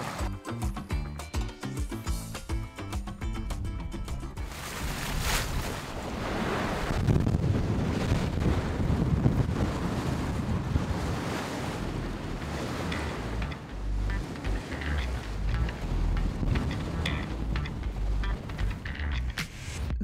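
A 60-foot Seidon Z60 sailboat making about 7.5 knots in 14-knot wind, with steady wind buffeting and rushing water and surf along the hull, loud and continuous throughout.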